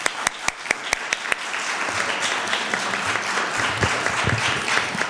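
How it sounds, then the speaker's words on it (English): Audience applause following a civics education panel discussion, opening with a few sharp separate claps that quickly swell into a steady, full round of clapping from a sizable crowd. "I'd also like some applause for our panel and for our moderator."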